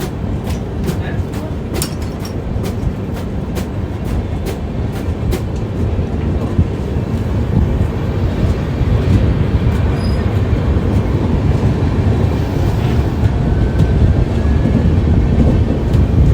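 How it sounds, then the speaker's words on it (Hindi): The Darshan Express rumbles along the rails as heard from inside a non-AC coach, a loud continuous roar of wheels and carriage that builds slightly louder, with rhythmic clicks and faint squeals over it. "बट 3-4 मिनट के बाद ट्रेन को दाहोद से भी रवाना कर दिया गया।"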